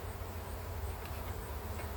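Honey bees buzz at an open hive as boxes are worked during honey pulling, a faint, steady, dense hum with no voices.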